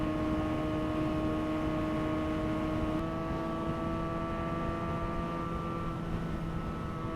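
Benelli BN 302 naked motorcycle cruising at 130 km/h in fifth or sixth gear, a steady engine drone with tonal whine buried in broad, constant wind rush, no voices.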